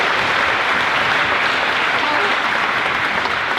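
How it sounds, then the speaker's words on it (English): A high school awards ceremony audience gives a round of applause for honored students, a dense, even wash of clapping from a large crowd, steady and fairly loud throughout. "Let's give them a round of applause."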